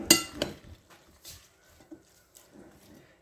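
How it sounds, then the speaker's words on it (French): A salad being mixed in a bowl, a few close clinks and scrapes of utensils against the bowl with soft moist shuffling between them, sparse and quiet with no voices. "Et là, je commence à bien mélanger."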